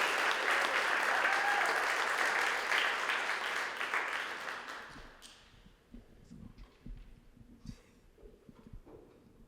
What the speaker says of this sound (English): So we're going to keep those applause going.